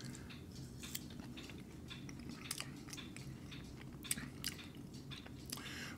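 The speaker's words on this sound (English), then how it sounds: "Let me see if I can just scrape off some of the filling and taste it" Someone bites into and chews the cream filling of an Oriental-flavoured Oreo cookie up close, with soft crunchy bites and wet chewing sounds repeating irregularly over a quiet background.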